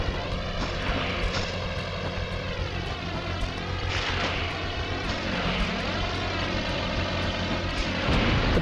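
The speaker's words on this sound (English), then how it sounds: "That plane's out of control." In the Spider-Man 2 video game, an out-of-control plane's engine drones loud and continuous, its pitch rising and falling in slow sweeps over a constant heavy roar.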